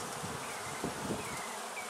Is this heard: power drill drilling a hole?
no